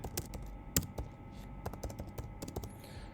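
Fingers tap out a discount code on a computer keyboard in quick irregular bursts of crisp, close clicks, with a few louder keystrokes standing out against a quiet room.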